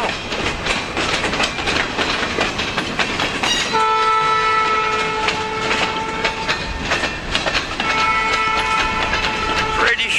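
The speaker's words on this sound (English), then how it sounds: "Short train today." A freight train rumbles past up close, wheels clacking steadily while its horn sounds in long sustained blasts.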